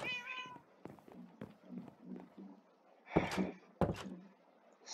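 A cat in the building video game Building World gives a short meow at the start, followed by soft scattered footsteps and two sharp thumps near the end.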